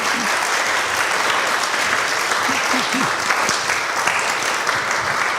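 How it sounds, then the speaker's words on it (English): A church congregation applauds newly named members during a service. The clapping is full and sustained at an even, loud level, with a few brief voices calling out underneath. "you can go ahead and applaud"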